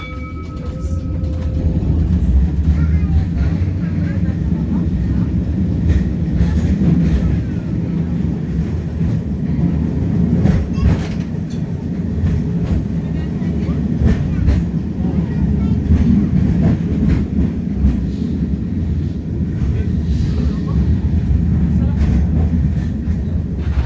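Steady low rumble of a tram ride through Auckland, rolling continuously at close range with occasional clacks and knocks, a faint voice murmuring under the running noise.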